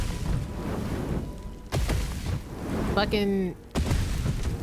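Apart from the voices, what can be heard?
explosions in the Baldur's Gate 3 video game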